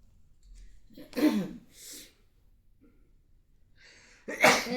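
Two sharp sneezes, the first a bit before the halfway mark and the second near the end, with a short breathy sound between them in an otherwise quiet room.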